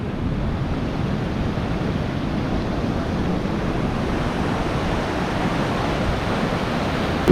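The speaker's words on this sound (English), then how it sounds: "listen to the sound of the waves" Ocean waves wash continuously onto a sunny beach near Sydney, a steady loud roar of surf with wind noise and no voices.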